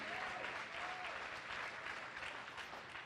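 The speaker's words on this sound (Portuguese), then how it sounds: "você pode aplaudir esse Deus?" A church congregation breaks into dense, continuous applause, a broad wash of many hands clapping at once that stays even throughout.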